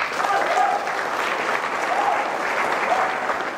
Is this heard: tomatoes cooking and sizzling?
no